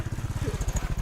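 A motorcycle engine running close by, a brief rapid throbbing pulse with a low, even beat, heard alone.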